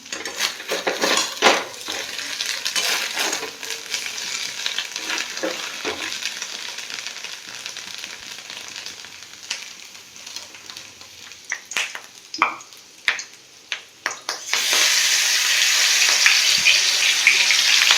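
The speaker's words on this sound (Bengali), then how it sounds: "কড়াইতে পাঁচফোড়ন দিয়ে দিলাম" Mustard oil sizzles steadily with panch phoron spices in a wok while a spatula clinks and scrapes; the frying hiss swells louder and more constant toward the end.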